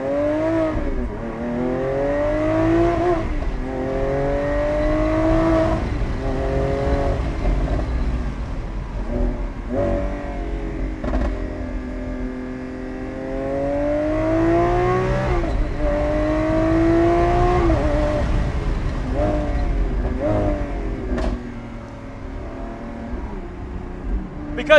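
A Lamborghini Aventador SVJ Roadster's 6.5-liter naturally aspirated V12, which revs to 8,700 rpm, roars loud and close. Repeated rising and falling revs sweep up and down in pitch over about twenty-five seconds.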